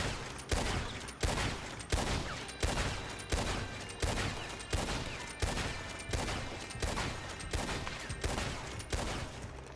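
Evans Repeater and Lancaster rifles firing in a video game: loud, booming shots in a steady, evenly spaced run of about fourteen, each with a brief echoing tail, no talking.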